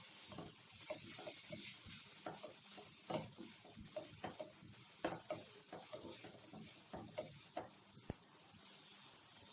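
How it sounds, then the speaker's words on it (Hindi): Roasted, ground masala being stirred into a pan of chicken pasanday, a steady soft sizzle with quick scraping spoon strokes and a few sharper taps, fairly quiet and close. "इसको भी अच्छे से मिक्स कर लेंगे"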